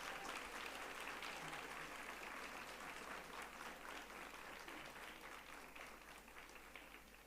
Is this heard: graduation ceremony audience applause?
yes